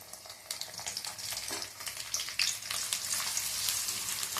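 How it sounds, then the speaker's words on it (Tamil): Onions sauté in hot oil for egg rice, with a steady close sizzle that swells slightly toward the end, alone without talk. "ஆனியன் நல்லா வதக்கி விட்டுக்கோங்க."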